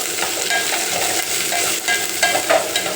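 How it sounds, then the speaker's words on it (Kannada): Fried okra and onions are stirred in a hot pan, a steady sizzle under soft scraping strokes of a spoon, close up with no talking. "ಬೆಂಡೆಕಾಯಿ ಹುರಿದಿಕ್ಕಿದ್ದೀನಲ್ಲ ಅದನ್ನ ಹಾಕ್ತಾಯಿದ್ದೀನಿ. ಹಾಕ್ಕೊಂಡು ಮಿಕ್ಸ್ ಮಾಡೋಣ"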